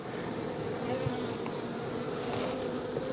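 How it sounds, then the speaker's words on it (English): Honey bees hum steadily at an open hive during a frame inspection, a dense, continuous buzz that stays close and even throughout. "So that's probably why the bees are over here."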